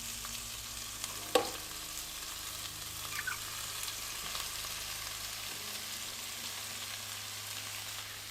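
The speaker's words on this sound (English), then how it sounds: "you're going to continue to cook for 4 to 6 minutes until your onions go translucent" Chopped green onions and gray squash cook in a hot pan for a Mexican gorditas recipe, giving a steady low sizzle with one brief utensil clack early on, fairly quiet and with no voices.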